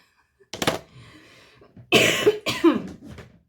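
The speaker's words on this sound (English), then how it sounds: "that's a cough and a half." A few harsh hay-fever coughs close by, one short burst followed by two heavier, rougher coughs in quick succession.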